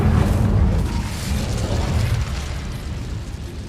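A fire spell cast in the Hogwarts Legacy video game makes a loud, roaring, crackling burst that starts at full strength, then rumbles steadily and fades slightly over a few seconds, with no voices over it.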